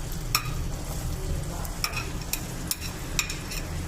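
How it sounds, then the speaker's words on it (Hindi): Chopped onion frying in hot oil in a karahi for keema, a steady close sizzle with several sharp spatula scrapes and taps scattered through it. "ये देखें, आधी मैंने डाल दी है। अब इसको थोड़ा सा भून लेंगे, प्याज को हल्का सा"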